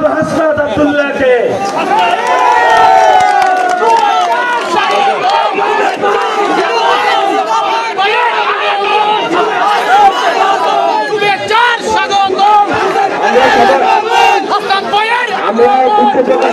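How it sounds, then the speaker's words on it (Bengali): A large crowd at a political march in Rangamati chants slogans in loud, continuous unison, the voices dense and overlapping with shouted calls rising above the mass, close and sustained throughout. "এই পর্যায়ে স্লোগান দেওয়ার জন্য আমি অনুরোধ জানাচ্ছি"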